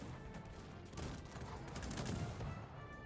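Cannon and gunfire from the Cossacks 3 strategy game during a tournament match, a faint, dense, continuous rattle of distant shots and booms with no speech.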